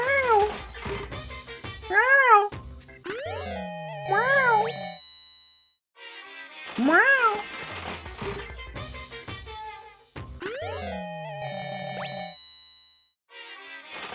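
A cat meows in a series of rising and falling calls, some drawn out, separated by brief pauses and mixed with chiming game sound effects and voices.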